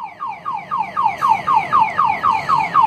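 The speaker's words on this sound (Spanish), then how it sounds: "lava el vehículo con toda la alarma sonando" A car alarm blares while the car is washed at a shopping-centre car wash, a loud repeating siren sweeping up and down in quick regular cycles.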